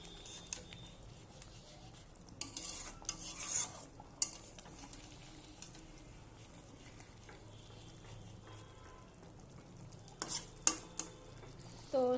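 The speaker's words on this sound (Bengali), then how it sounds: "দিয়ে এবার একটু ভালোভাবে নাড়বো।" Pomfret fish with poppy seed, cucumber and green chilies stirred in a pan, soft scraping and sizzling with a few louder utensil knocks on the pan.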